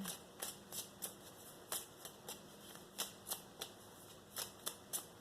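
Playing cards riffle and snap in a quick, steady series of crisp bursts, close and fairly quiet, with no voices.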